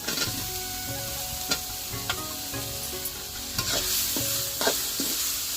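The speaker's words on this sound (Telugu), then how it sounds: "మసాలా అయితే మంచిగా వేగింది టమాటాలు వేసుకున్నాము" Masala with tomatoes fries in a pan for chicken curry, a constant close sizzle broken by repeated scraping taps of a spoon stirring against the metal, with no one talking.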